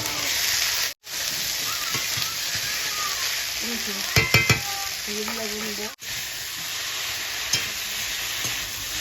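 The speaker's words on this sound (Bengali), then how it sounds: "এবার আমি যে কচুর লতিটা কেটে রেখেছিলাম সেটা আমি দিয়ে দেবো" Chopped taro stolons (kochur loti) sizzle loudly in hot oil and spice paste as they are stirred, a steady frying hiss with a few scraping knocks of the spoon and two brief drops in sound.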